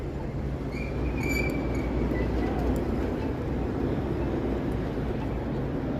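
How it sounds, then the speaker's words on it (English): A train passes on a Toronto street during evening rush hour, a continuous loud rumble of wheels and rails with brief high squeals near the start, steady from start to finish. "There's another train."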